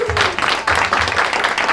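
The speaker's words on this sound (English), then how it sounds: "Let's give her a round of applause, guys." An audience at a one-day Atomy seminar in Jacksonville applauds in a brief, dense burst of clapping, with voices mingled in the crowd noise.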